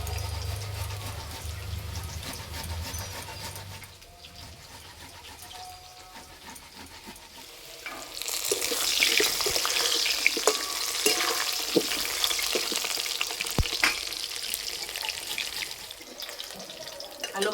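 Potatoes fry in hot oil in a home kitchen, a soft sizzle that swells louder and busier in the second half, with occasional clinks and faint watery sounds.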